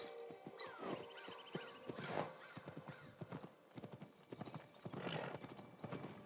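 Horse hooves in Assassin's Creed Shadows clip-clop in a quick, steady rhythm, joined by a couple of whinnies and snorts, with a faint ambient backdrop throughout.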